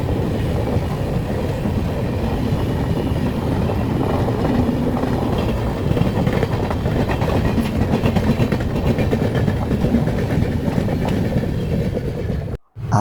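The Netravathi Express rolls into Kollam station, a loud, steady rumble of railcars with faint clickety-clack running throughout, ending in an abrupt cut.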